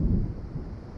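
A low, rolling rumble of distant thunder from an approaching storm in the Alan Wake video game, a brief dark roar with no talk.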